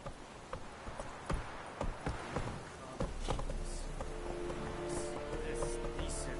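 Roach, the horse from The Witcher 3, gallops away with irregular, fairly close hoofbeats that build into a denser, continuous rush under game ambience and music.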